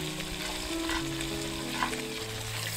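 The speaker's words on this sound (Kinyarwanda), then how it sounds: "Ibirayi tubikarange" Potatoes fry in a pan with cooked tomato paste for a vegetable pilau. A continuous sizzle sits under occasional soft stirring scrapes, close and steady, with no voices.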